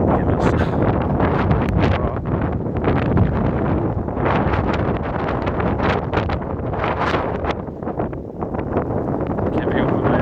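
Blizzard wind in New York City buffets the microphone in loud, gusty roars that surge and ease over several seconds, with a low rumble running underneath throughout.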